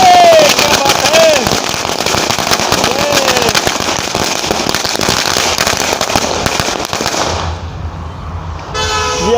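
Firecrackers and fireworks bursting in a loud, continuous crackling barrage during a New Year celebration, with car horns and people's voices mixed in.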